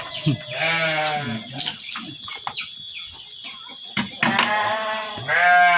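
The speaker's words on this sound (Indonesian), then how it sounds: "Disambut dengan suara embek." Goats bleat loudly and close by in a village, with several wavering calls at the start and again near the end, and quieter rustling and thumps in between.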